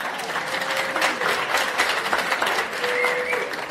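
Audience applause fills the room after a talk at a yeshiva Chanukah event, steady sustained clapping from many hands throughout, with no speech over it.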